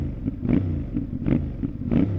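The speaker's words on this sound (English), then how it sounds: "I love the rumble of that exhaust." A CFMoto 450MT (IBEX 450) motorcycle engine with stock exhaust rumbles steadily with a deep, throbbing note that swells in three rhythmic pulses as the throttle is blipped.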